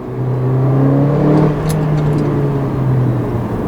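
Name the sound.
Mercedes-Benz GLA 45 AMG engine revving with exhaust pops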